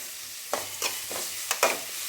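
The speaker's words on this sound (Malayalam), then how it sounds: "സവാള നല്ലോണം വഴണ്ടി വരണം കേട്ടോ" Onions sautéing in a pan for a fish curry, a low steady sizzle broken by five distinct scraping stir strokes at an uneven rhythm.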